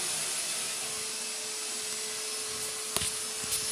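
A vacuum cleaner drones continuously up close, a constant motor whine under a wash of airy hiss, with a couple of short knocks near the end.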